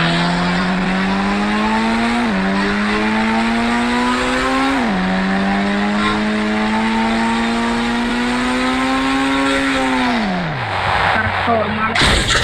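A car in a video game drives up, its engine note holding a steady hum that climbs in pitch through two gear shifts, then winds down and cuts out near the end, loud and close with gameplay noise around it.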